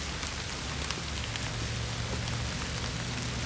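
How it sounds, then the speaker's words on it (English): Steady rain falling outdoors during a late-season deer hunt, a dense continuous hiss of drops pattering on surfaces, even and unbroken throughout with no voices. "It's starting to rain pretty good now."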